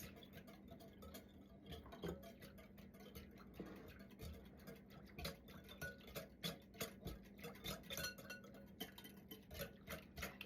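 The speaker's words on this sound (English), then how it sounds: "we're going to stir it until it dissolves" A spoon stirs active yeast in a bowl until it dissolves, making quiet rhythmic clinks and scrapes that repeat steadily against a low background hum.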